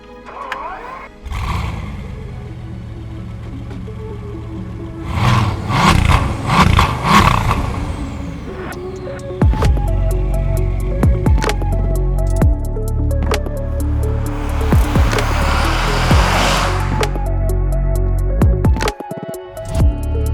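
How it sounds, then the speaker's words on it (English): A Bugatti Veyron 16.4 hypercar with an 8-litre W16 engine drives through city streets in Sydney, Australia, its loud engine note idling, revving and climbing through gear changes, close and dominant, with brief traffic and clatter noises around it. "it doesn't get more special than driving a Bugatti on the streets of Sydney, Australia. So let's take it for a spin."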